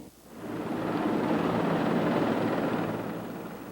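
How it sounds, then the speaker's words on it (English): A couple of helicopters fly low over the Bay Bridge, their rotor roar swelling to a loud, continuous rumble and then easing slightly as they pass. "workers on the Bay Bridge were buzzed by a couple of helicopters"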